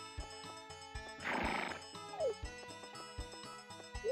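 A horse neighs in the farming video game Harvest Moon 64, a short noisy whinny over looping background music with a steady plodding beat and small chimes.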